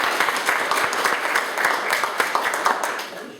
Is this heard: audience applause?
yes